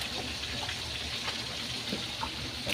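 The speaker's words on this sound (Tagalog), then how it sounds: "dadagdagan ko lang kunting tubig" Water poured into a pan of cooking bangus fish steak, a steady hissing, sizzling wash that runs continuously and close.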